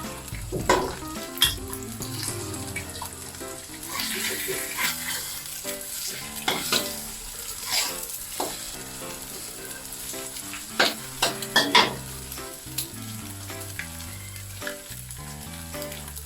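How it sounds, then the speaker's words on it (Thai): Shrimp fried rice being stir-fried in a big batch for four, the rice tossed over set egg: steady loud sizzling with repeated scraping stirs and occasional clanks of utensil on pan, no talking. "เอาข้าวลงไปผัดเลยค่ะ"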